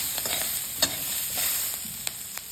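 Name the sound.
stir-frying vegetables and peas in oil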